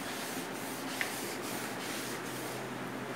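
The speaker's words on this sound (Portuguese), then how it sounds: "Tô aqui, ó, esfregando esse chão aqui" A floor is scrubbed by hand, giving a steady, close, rasping rub with faint rhythmic strokes, no voices.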